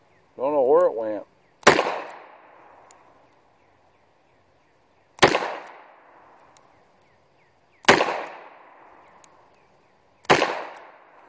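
Four loud, sharp gunshots from a Ruger SP101 revolver fired outdoors, spaced a few seconds apart, each with a short ringing echo, after a brief voice at the start.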